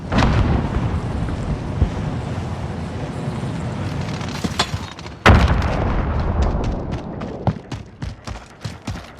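Grenade blast in the Modern Warfare video game: a broad, rumbling battle din builds, then a sharp loud boom hits midway, followed by a string of scattered gunshot cracks.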